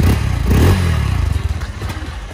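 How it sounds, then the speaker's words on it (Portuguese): 2024 Honda Start 160 motorcycle engine close up, a short throttle blip followed by a fast, even idle thump that settles down, with no talking. "E olha só o som e o ronco do motor dessa máquina"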